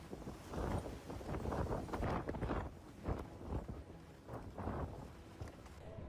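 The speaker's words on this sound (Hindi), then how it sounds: "तेज हवा के दबाव में वो बर्फ पर जहां तहां गिर रहे हैं।" Strong storm wind rips across a ski slope in Niseko, Hokkaido, loud gusts buffeting the microphone in repeated surges with rushing roar between, no talk.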